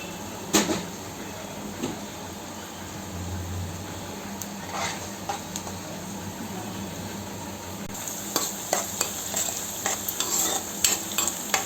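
Onions frying in a pan with a pinch of salt, a soft continuous sizzle with occasional stirring scrapes and clinks, growing busier toward the end.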